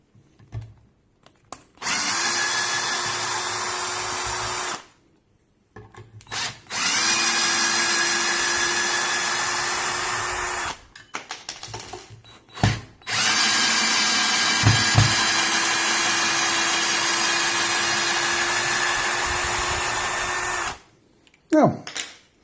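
A Parkside cordless drill driver drives screws in several loud, close bursts of motor whine, each lasting a few seconds, with short silent pauses between runs.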